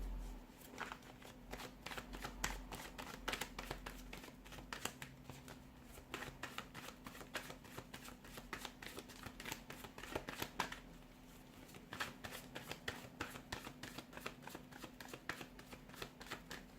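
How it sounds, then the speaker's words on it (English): Tarot cards riffled and shuffled by hand in a steady run of crisp, close card flutters and slaps, with no talking. "let's give the cards a shuffle and let's begin"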